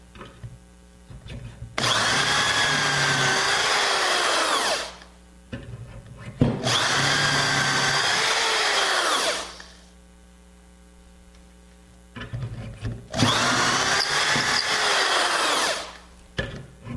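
A power drill bores dowel holes into a wooden bed frame leg, with three long, loud whining runs separated by pauses that hold a steady electrical hum and small handling clicks.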